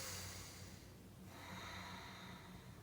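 Slow, faint breathing in through the nose during a yoga session in the jungle in India, with soft airy inhales heard up close against a quiet background.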